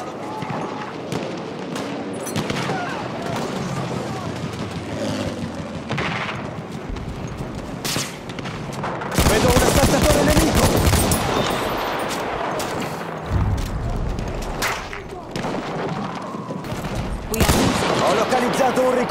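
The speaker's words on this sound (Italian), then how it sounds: "Là, una mitragliatrice nemica!" Enemy machine gun fire in the WWI shooter Battlefield 1 on the Caporetto map during a Conquest match, dense bursts and battle din running throughout, loudest in the second half.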